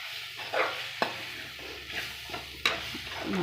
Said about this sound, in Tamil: நல்லா ட்ரை ஆகணும், அந்தளவுக்கு கொஞ்சம் வறுத்துக்கோங்க.